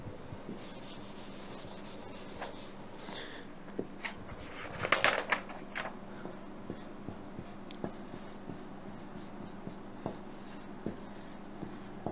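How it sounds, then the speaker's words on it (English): Chalk or a marker scratches and rubs across a board in short strokes, some of them erasing and some writing, with quiet taps between strokes and a louder scrubbing burst partway through, close and with no talk. "Okay, so I'm erasing the bombs, and I'm writing energy."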